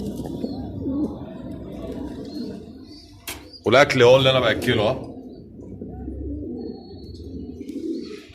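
Pigeons and small birds in a loft coo and chirp at close range, with a brief louder burst of calls in the middle, under steady talk in Arabic.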